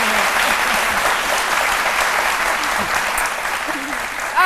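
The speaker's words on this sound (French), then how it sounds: "Merci, on applaudit très fort, Méliane." Audience clapping for Méliane on a live midday TV show, a full steady round of applause with voices speaking through it, ending abruptly.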